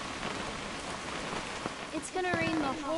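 Rain falls in the video game What Remains of Edith Finch as a steady, even patter, and a voice briefly speaks over it toward the end.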